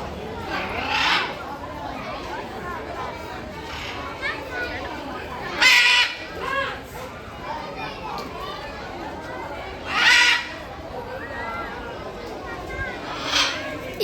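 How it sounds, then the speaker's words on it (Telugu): At Mysore Zoo, crows caw among other calling birds in bursts over a constant murmur of children and people chattering, with a few louder calls standing out nearby. "అటు పక్కన బర్డ్సే ఉన్నాయి, ఇటు పక్కన బర్డ్సే ఉన్నాయి. ఎటు చూడాలో కూడా అర్థం కావట్లేదు. అవి ఎంత బాగా సౌండ్స్ చేస్తున్నాయో మీరే వినండి."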